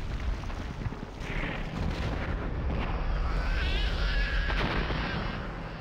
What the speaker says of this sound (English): this fucking explosion of the entire fucking base